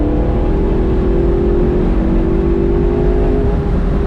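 A McLaren 650S Spider accelerates at full throttle in fourth gear from 4,000 RPM. The engine gives a loud, continuous roar with its pitch climbing steadily, heard up close from inside the car with no talking.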